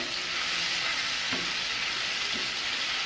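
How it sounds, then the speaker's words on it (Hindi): Whole cumin seeds and garlic paste fry in oil over a medium-low flame, giving a steady, close, bright sizzle with a faint crackle or two and no talking. "इसको हम ऑयल में फ्राई कर लेंगे तकरीबन 1 से 2 मिनट के लिए"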